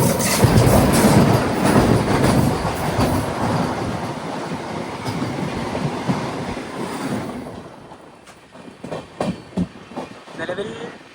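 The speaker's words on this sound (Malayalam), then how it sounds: "ട്രെയിൻ ഇപ്പോൾ ജോളാർപേട്ടയിലേക്ക് എത്തുകയാണ്." The Vivek Express rolls into Jolarpettai station with a loud, close rumble of wheels and carriages and some clickety-clack, fading near the end into a few separate thumps, with voices talking alongside.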